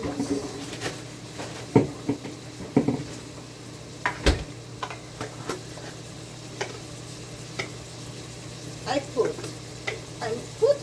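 Beef with ginger and garlic cooking in a pot with no oil, giving soft irregular stirring scrapes and faint sizzling, with scattered clicks and knocks against the pot throughout.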